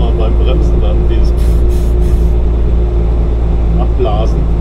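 Air brake on a truck at night on the Mannheim bridge blows off with a short hissing burst over steady cab engine drone, a voice talking at the same time.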